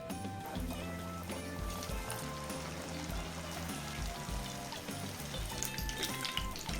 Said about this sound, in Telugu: ఇప్పుడు మనం రెడీ చేసుకున్న చీజ్ బాల్స్ని అయితే ఒక్కొక్కటిగా వేసేసుకొని ఫ్రై చేసేద్దాం